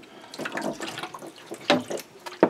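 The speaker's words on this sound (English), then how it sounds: "I'll only give it a quick wash." A darkroom print being rinsed under running water during sepia toning: close splashing and gurgling from a tap, with a couple of sharper sloshes near the end.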